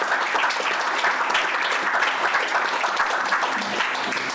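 Steady applause from a sizable conference audience at a Scottish political party's first policy conference fills the whole stretch, dense and even without letting up.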